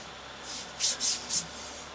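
Spyderco knife blade shaving hair from a forearm, heard as three short, soft, close scraping strokes in quick succession over a quiet background.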